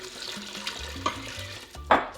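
Two cups of water are poured into an Instant Pot holding veggie broth for refried beans, giving a short, soft pour with gentle splashing at close range.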